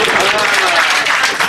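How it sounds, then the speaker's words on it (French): Audience applause at an aid association gathering in Sakoula, a dense, steady wash of clapping with voices mixed in throughout the short burst. "Applaudissez pour nous."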